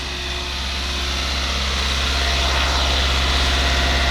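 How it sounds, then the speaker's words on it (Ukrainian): An Opel Vivaro van's diesel engine idles steadily after its revs drop, a loud, continuous low drone with a faint rising hiss, heard close with no talking. "Скинула оберти і почала трохи коптить."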